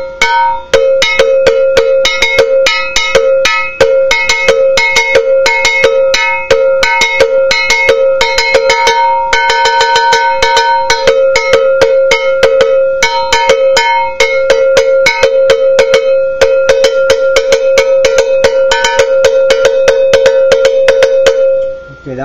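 A cowbell struck with a wooden stick, giving a rapid, steady run of bright metallic clanks repeated dozens of times. It plays loud and close, alone throughout.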